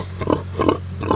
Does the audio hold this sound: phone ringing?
no